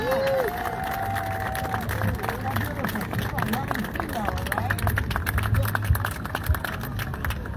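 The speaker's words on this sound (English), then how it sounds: "a big round of applause to everyone here" An outdoor crowd at Car Free Earth Day in New York City claps and cheers in a scattered burst while a speaker talks over the noise on a public address system.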